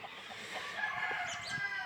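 Hens and a cockerel in a brood pen of chickens, one pair from a white project, giving soft clucks and brief calls over a steady ambient hum at moderate distance.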